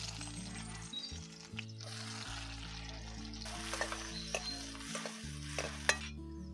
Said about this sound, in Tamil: இதை சேர்த்து வதக்கிக்கலாம்.